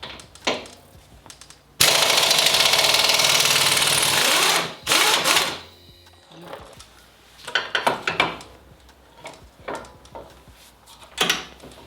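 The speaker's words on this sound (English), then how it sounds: "19 millimeter for the lower bolt on the strap. Hit that with the impact driver." A loud impact driver hammers a 19 mm lower strap bolt during a mid-travel suspension install on a Toyota Tacoma, one sustained burst of about three seconds followed by quieter clanks and tool handling.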